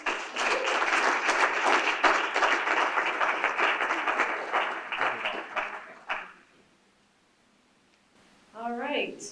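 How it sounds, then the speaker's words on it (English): Applause from an audience at an annual Joplin area arts and cultural preview event, a dense, steady clapping that fills the room for about six seconds, then stops, and a voice follows briefly. "Give yourselves a round of applause just for all of that wonderful programming"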